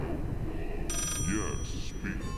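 A telephone rings in the horror video game Layers of Fear, its bright electronic trills coming in short bursts through a busy, noisy background while a person talks.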